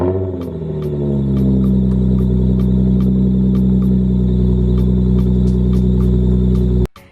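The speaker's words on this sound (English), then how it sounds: "I pretty much did a muffler delete to my car." Infiniti G35 with a muffler delete on the stock exhaust, a loud, deep, steady idle rumble with ticking engine clatter, held close for several seconds before cutting off abruptly.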